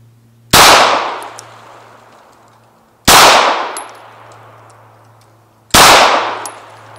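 Three loud, sharp gunshots fired toward a chain-link fence, spaced a few seconds apart, each with a bright crack and a long ringing decay outdoors, with no talk.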